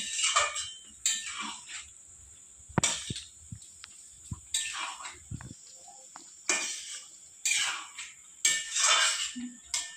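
A spoon scraping and stirring a potato and pumpkin curry with ground garam masala in a metal pan, in irregular bursts of close, sharp scraping and clinking with short quiet gaps between strokes.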